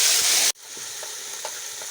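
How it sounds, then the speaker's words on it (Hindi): Ginger garlic paste with green chili fries in a pot for matar chawal. A loud, close sizzle cuts off abruptly after half a second, leaving a softer frying crackle with faint stirring scrapes. "अदरक लहसुन का पेस्ट"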